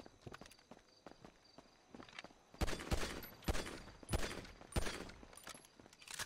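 Several sharp pistol gunshots ring out at irregular intervals over faint rapid tapping, punchy and close, in GTA 5 game fire.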